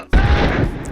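Gunfire in the video game Spec Ops: a single loud, booming shot that rings out and decays over most of a second.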